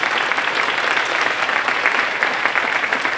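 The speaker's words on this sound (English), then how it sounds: "So please give your colleagues a round of applause." An audience at a school district conference day keynote gives the presenters a loud, steady round of applause, dense and unbroken for the whole stretch.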